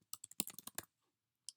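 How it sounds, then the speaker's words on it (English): Quick bursts of keystrokes on a computer keyboard, about a dozen close taps in a rapid run and then one last isolated key press after a short silence. "And I would type in the sibling's name."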